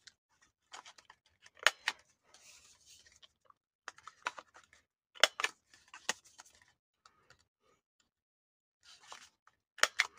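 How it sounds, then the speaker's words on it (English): A corner rounder punch clipping the corners of a paper envelope: quiet, close, sharp clicks and snaps in small clusters with rustling paper between them, spaced by silent pauses. "Now I'm going to take my corner rounder and I'm going to round these using my medium one"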